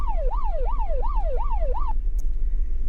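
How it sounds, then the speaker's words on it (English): A car siren in the video game Unturned wails in a rapid rising-and-falling sweep, loud and steady for about two seconds before cutting off, leaving low engine rumble. "if you're in a police car or just any car with a siren, you can press left control and your sirens will turn on"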